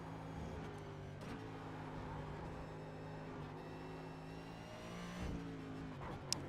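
A NextGen stock car engine in the iRacing simulator drones steadily, its revs rising and falling gently in a sustained mid-pitched hum, with a brief downshift blip and one sharp click near the end.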